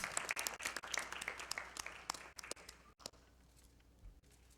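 Applause from an audience at an awards ceremony, the Seed Alliance Awards at IGF 2015, a dense patter of clapping that is strong at first, then thins and fades toward the end.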